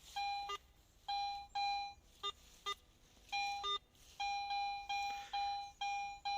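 A metal detector in a field emits a series of clear electronic beeps, short and long tones in an irregular pattern, close and fairly loud over quiet background.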